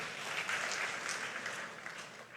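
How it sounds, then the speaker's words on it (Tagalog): A church congregation claps for the Lord during a sermon, a moderate wash of applause that rises briefly and then tapers, with no voices over it. "Pumalakpak sa Panginoon."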